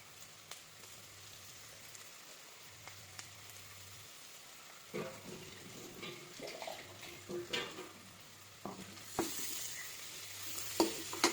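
Ginger-garlic paste added to onions frying in a pan for a bone curry and stirred, giving a low sizzle that grows louder and busier midway, with scraping stirs and a few sharp clinks and no talking.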